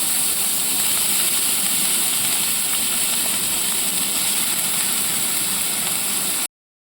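Mashed pumpkin paste for kofta fries in a little oil in a kadai, a continuous close hiss and sizzle holding at an even loudness before cutting off abruptly near the end.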